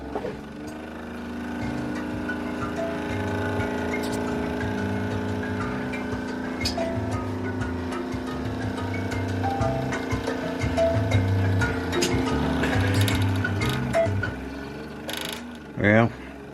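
Inside a Toshiba SD-2800 DVD player, a faulty mechanism whirs and grinds continuously, with clicking and ratcheting over a steady motor hum, followed by a couple of sharp clunks near the end.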